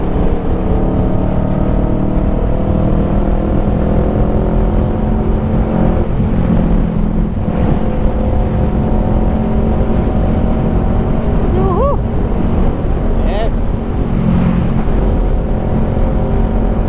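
A Kawasaki Ninja 650 fitted with an Orion muffler drones loudly and continuously while riding, with heavy wind rush and a steady low exhaust tone throughout.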